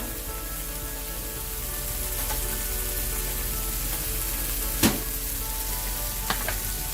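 Asparagus and chicken sausage fry in a pan with a steady, close sizzle throughout, broken by a couple of sharp clicks near the end and no talking.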